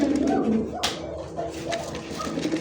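Domestic fancy pigeons at a sale coo close by in soft, throaty bursts, with some background noise mixed in.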